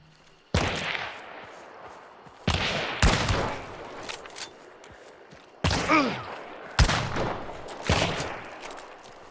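Gunshots in Hunt: Showdown 1896, five or six sharp, loud reports spaced a second or two apart, each followed by a rolling echo that decays into quiet before the next shot.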